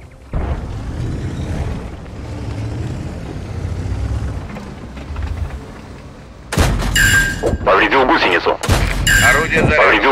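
Tank cannon shots in the A-43 tank battle video game, two sharp loud booms in quick succession after a stretch of rumbling engine and ambient battle noise.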